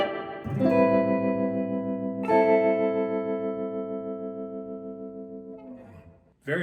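A Princeton amp plays sustained guitar chords with tremolo, two strummed chords ringing out and slowly decaying with a gentle pulsing wobble, clear and up front with no talking.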